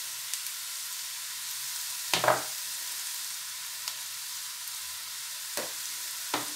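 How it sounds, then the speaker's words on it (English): Vegetables for vegetable fried rice sizzle steadily in a hot pan, a soft continuous hiss broken by a few brief clatters of stirring. "My vegetables has been frying for 3 minutes now and it's getting soft"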